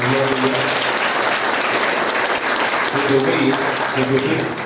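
Loud, dense applause from an audience honoring Lions Club volunteers at a clothing-distribution gathering for a tribal area, a thick continuous roar of many hands clapping, close and unbroken throughout.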